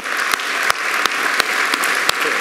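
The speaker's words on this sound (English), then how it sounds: "can you please join me in welcoming a warm round of applause to Craig Conover and Jerry Castellano." An audience at a business school speaker series applauds warmly, dense steady clapping from a crowd with several sharp louder claps standing out near the microphone.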